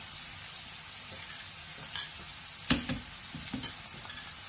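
Onions with turmeric soften in hot oil for a drumstick and milk curry, a low steady sizzle broken by a few sharp spoon knocks and scrapes against the pan.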